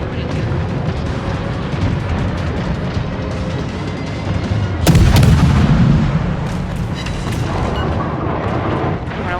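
Warship gunfire and explosions in the World of Warships video game, with a steady rumble of battle noise and one louder booming blast midway, continuing under a dense mix of in-game sound.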